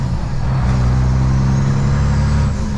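An old truck with a small sleeper cab idles loudly and steadily up close, its deep engine rumble holding throughout with no voices.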